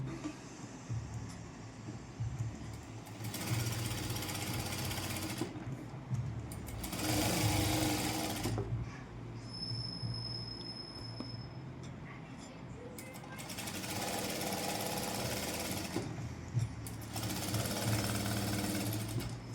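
Sewing machine stitching folded dress hangings, running in several bursts of steady rapid whirring separated by pauses, with a low background hum and some quiet talk between runs.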